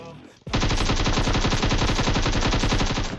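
Rapid automatic gunfire in the mobile battle royale game PUBG Mobile, a dense burst of shots that bursts in abruptly after a quiet moment and keeps going loud and steady to the end, with no talk.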